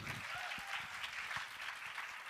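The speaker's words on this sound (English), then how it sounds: "So would you like to clap for us after 1," An audience at an inter-college public speaking competition claps in a steady patter of many hands, faint and distant, with scattered louder claps.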